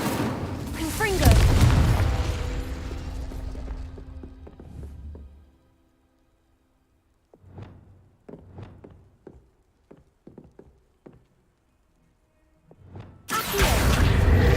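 A blasting spell explosion in the video game Hogwarts Legacy: a loud booming blast that decays, followed by scattered taps and footsteps, then another loud burst at the end.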